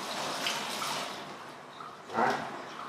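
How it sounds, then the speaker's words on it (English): Water from an aquarium poured into a fish tank during acclimation of a goonch catfish, a soft continuous splashing that swells into a louder pour near the end, with no one talking. "Slowly dump some of the whole water inside here."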